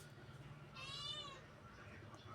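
A house cat gives one short, faint meow in a quiet room near a kitchen where a Malvani fish curry and fried mackerel meal has just been served, over a low steady background hum.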